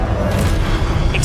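A Confringo blasting spell exploding in Hogwarts Legacy, a low rumbling boom that fills the moment alongside game noise, with the player's voice over it.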